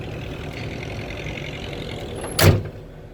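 A Hitachi ZX200-1 excavator engine with a faulty accelerator motor runs at a steady low idle, then surges in a brief loud burst near the end before settling back.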